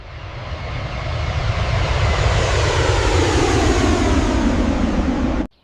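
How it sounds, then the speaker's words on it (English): Twin engines of the Airbus BelugaXL cargo aircraft, a loud rising jet roar that swells and holds, then cuts off abruptly at the end. "Behind this flying whale are two powerful engines."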